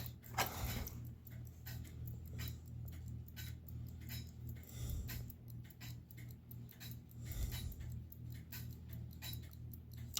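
A German mechanical clock movement made by Gebr Hauser, partly disassembled on a workbench, ticks steadily with faint metallic gear clicks and a low background hum, close and quiet.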